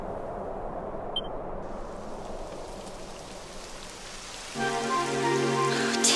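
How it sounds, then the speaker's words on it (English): Steady rain falls in the video game Dragon Quest XI, a soft continuous hiss, with a brighter layer of ambient tones joining near the end. "It would have to go and start raining, wouldn't it?"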